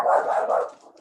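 A dog barks close by in one sustained, loud yelp-like bark that trails off over about a second, with no other sound around it.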